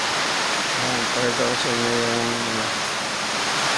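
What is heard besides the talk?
strong wind and rain of typhoon Paeng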